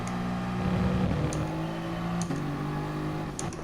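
A race car engine in a racing video game at the Interlagos circuit holds a steady high-revving drone, with a quick gear shift partway through and faint, sharp clicks above it.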